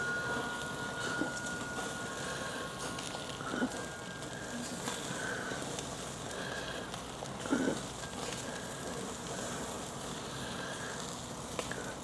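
A grill fire under searing surf and turf crackles and hisses in a steady, dense wash with a few sharper pops, moderately loud and continuous throughout.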